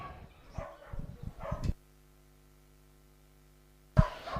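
A large dog at an international agility festival competition gives a quick run of sharp barks and yips over about a second and a half, then falls quiet before one more abrupt bark near the end.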